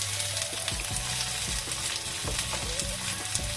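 Onions and green chillies sizzle loudly in hot oil in a pan for a drumstick curry, a dense continuous frying hiss with stirring scrapes throughout, close and with no voices.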